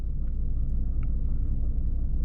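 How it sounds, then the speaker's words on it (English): A 2018 Jaguar F-Type coupe's turbocharged inline-4 idles through a free-flowing exhaust, giving a steady, close, deep low rumble that holds evenly without pauses. "allowing you to hear the entire rumble of that inline-4 turbocharged motor"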